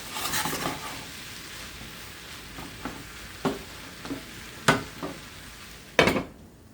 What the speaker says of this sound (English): Really gotta let them onions cook.